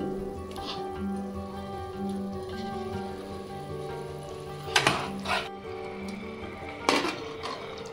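Marinated chicken goes into a pan of sizzling curry gravy for a Hyderabadi masala chicken curry, a steady fry hiss under a low hum, with two sharp metallic clatters and a burst of stronger sizzle as pieces drop in.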